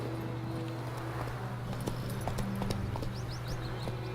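Steady clip-clop of horse hooves at a walking pace in a video game, close by, over a constant low hum with occasional faint chirps in the background.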